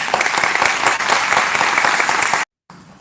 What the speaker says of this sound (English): they deserve a very warm round of applause from all of us.